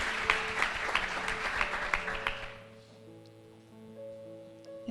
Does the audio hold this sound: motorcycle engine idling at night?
no